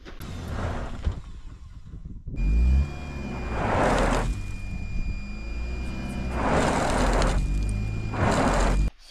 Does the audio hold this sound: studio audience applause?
no